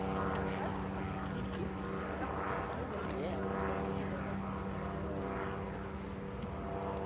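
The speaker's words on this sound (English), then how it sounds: "Runway 18, clear for takeoff, wind 255 and 7." A small seaplane at EAA AirVenture's seaplane showcase starts its takeoff, the propeller engine droning steadily and loudly with a wavering pitch, a radio voice talking over it.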